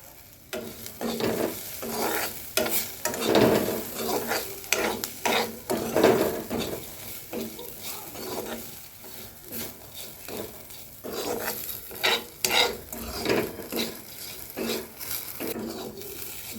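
Potatoes stirred and fried in a pan with salt and a little sugar, giving repeated scraping and clinking spatula strokes against the metal over a soft, continuous sizzle, close and fairly quiet.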